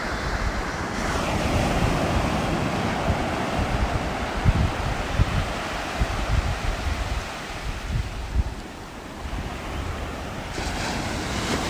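Ocean surf rolls and breaks continuously on a beach at sunrise after a wild night of wind and rain, with a loud broad wash and gusts of wind buffeting the microphone.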